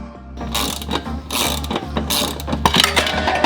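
Ratchet clicking as 13mm bolts come off the exhaust plates of a BMW E46 330, with quick bursts of close, loud pawl clicks and brief pauses between strokes.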